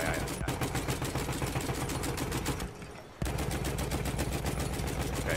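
Battlefield 1 gunfire: sustained rapid automatic fire rattles loudly and up close, drops out briefly for a moment, then resumes just as dense and steady.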